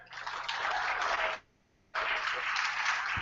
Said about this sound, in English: Tell me by applause.